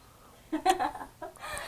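A chicken, apparently a rooster, gives a few close, quick clucks in two short bursts, with a brief pause between them and no speech over them.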